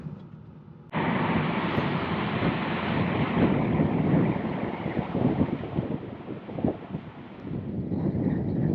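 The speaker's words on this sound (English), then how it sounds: "Always windy out here." Steady, loud wind buffeting the microphone while driving I-70 north of Moab, Utah, a broad roaring rush that starts abruptly and continues throughout with gusty swells.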